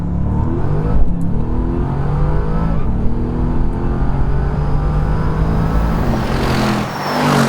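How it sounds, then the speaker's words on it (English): 2020 Bentley Continental GT with a twin-turbo V8: a loud, close, deep engine drone that holds steady and swells near the end, with no voices over it. "because now you can get this twin turbo V8"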